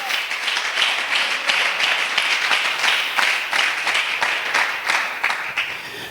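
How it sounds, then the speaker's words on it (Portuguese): Worshippers clap and applaud during a sermon, a steady wash of many hands with slight swells, fairly close and continuous throughout. "Aplausos para o makasi."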